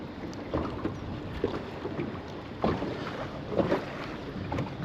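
Wind blows steadily across the water around a small fishing boat near pier pylons, a constant rushing roar with gusty swells and a few soft knocks, no voices.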